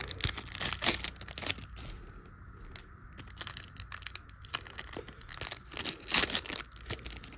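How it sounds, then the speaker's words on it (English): Trading card pack wrappers from a Bowman Chrome mega box are torn open up close: a busy run of crisp rips, crinkles and foil crumpling, with the sharpest bursts at the start and again near the end. "I'm just gonna maybe unwrap them all"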